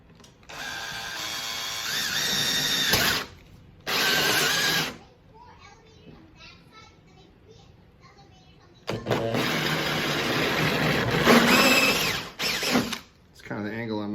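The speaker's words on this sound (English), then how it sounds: "I have a 1-inch paddle bit that I'm using to take out the foam after the holes get drilled." A power drill with a 1-inch paddle bit bores out foam inside a plastic Coleman fishing canoe, heard as several loud whining bursts with quiet gaps between them.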